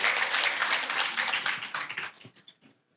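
Audience applause at a talk on human connection and AI, a brief burst of scattered clapping that thins out and fades to silence within a few seconds.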